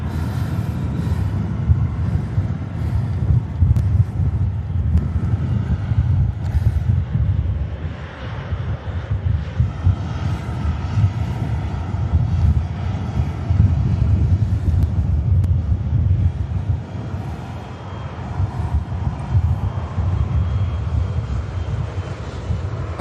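An ATR turboprop airliner departs Manchester Airport with a loud, sustained engine roar and rumble, steady and close for over twenty seconds, mixed with gusty wind buffeting the microphone.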